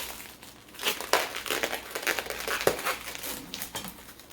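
Plastic wrap crinkling and crumpling in bursts while a portion of ground beef is prepared for homemade burgers, close and fairly quiet, no talking.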